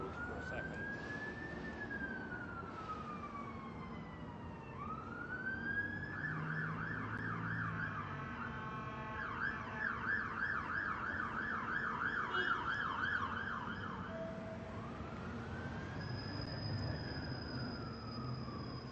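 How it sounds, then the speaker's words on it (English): An emergency vehicle siren wails and yelps continuously, rising and falling through several cycles with steady loudness, moderately distant, with no talk. "With the siren."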